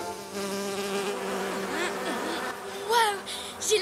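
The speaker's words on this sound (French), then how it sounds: "j'ai l'impression que les mouches aiment bien le jus de Marula" Cartoon flies buzz around marula juice, a close, wavering insect drone with pitch swoops as they circle, rising louder in short bursts near the end.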